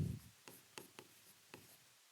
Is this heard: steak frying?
no